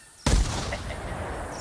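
Single sharp gunshot from a pheasant-hunting video game, a loud sudden blast followed by a lingering rumbling tail.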